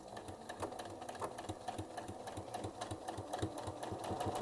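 A domestic sewing machine stitches a quilt with a 3 mm stitch length, giving a fast, even mechanical whir and rapid ticking needle strokes, close but fairly quiet and steady throughout.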